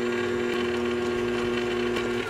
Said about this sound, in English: It just spins around and mixes it up and kneads it up.